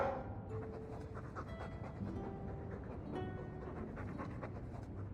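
A Mabari war dog in Dragon Age II pants steadily and rhythmically close by, its breathing continuous over low rumbling background noise from the game.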